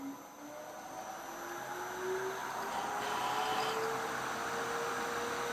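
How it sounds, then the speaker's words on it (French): A cyclonic workshop vacuum cleaner, switched on remotely, winds up to full power, its whine rising steadily in pitch and loudness into a strong continuous roar, heard alone. "j'ai mon petit badge pour allumer l'aspirateur à distance, ça c'est top. J'allume, on attend qu'il démarre correctement"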